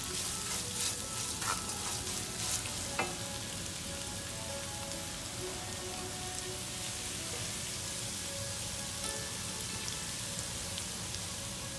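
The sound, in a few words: fresh coconut frying in a pan for lemon rice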